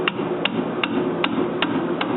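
A hammer drives a spreader between the ball joint and spindle on an old 1963 Corvette, striking six evenly spaced sharp metallic blows, close and loud over a steady background hum.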